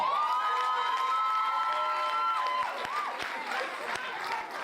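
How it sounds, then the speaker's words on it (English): Graduation audience at Fort Cox cheers and applauds, high excited voices and shouts riding over a bed of clapping. The shouting is strongest early, then scattered claps and calls continue. "we can give that one a round of applause"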